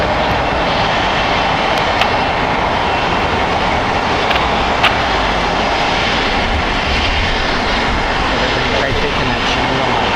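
A Citation jet takes off from runway 25 right at Los Angeles International Airport, a loud continuous engine roar that holds steady throughout with faint ticks, while air traffic control voices can be heard.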